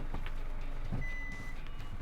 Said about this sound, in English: Ooh, lots of beeps. We're reversing.